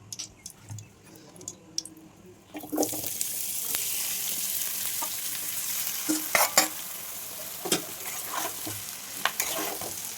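Food sizzles in hot oil in a pan on a stove, starting with faint clicks and quiet clatter, then breaking into a loud, steady frying hiss with occasional stirring scrapes and pops.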